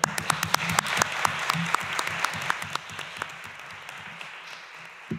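An audience claps for Roser Aguilar's film at a cineforum screening session, a sustained round of applause with sharp individual claps standing out near the front, gradually thinning and softening over several seconds.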